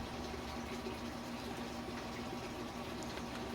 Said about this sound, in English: So if I pour water here, it's easy, just like that.